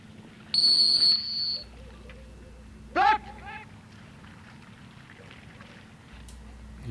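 A handler's whistle at a retriever field trial near water, one loud sharp blast followed by a shorter trilled blast, with outdoor ambience and quiet commentary around it.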